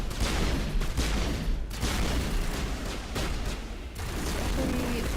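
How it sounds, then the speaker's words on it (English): Gunfire from the player's weapon in the Mass Effect video game, dense bursts of shots over a constant roar of game noise, with brief gaps between volleys. "Especially when my gun doesn't want to shoot fast anymore."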